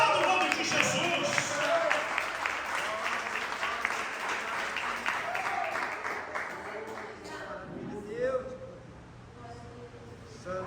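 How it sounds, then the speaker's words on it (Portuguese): Church congregation applauding during a service, a loud, dense burst of clapping that gradually thins and fades, with a preacher's voice speaking over the end. "Aplauda o nome de Jesus."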